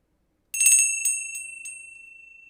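A small hand bell rung at a live Wienerlied performance, giving a few bright, ringing strikes about a third of a second apart that decay slowly, clear and close against silence.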